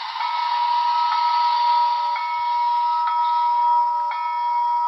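A Broadway Limited Imports 2-8-2 Heavy Mikado model train sounds a steady electronic bell tone with regular strikes about once a second, clear and sustained, with no other sounds.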